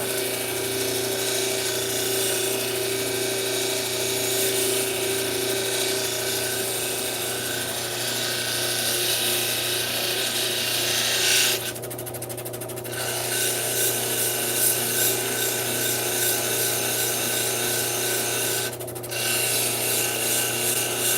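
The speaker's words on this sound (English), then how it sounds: "We're polishing now." A thunderegg core cabochon polished on a rotating wheel gives a steady, loud rubbing whir throughout, with a couple of brief shifts in tone as the stone is repositioned; no talk.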